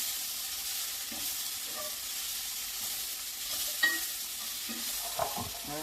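Onions and peppers fry in a home kitchen pan, a steady sizzling hiss running throughout with soft scraping stirs and a couple of sharper utensil clicks near the end.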